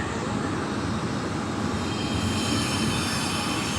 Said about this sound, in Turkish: Tramvay geçsin. Bekleyelim.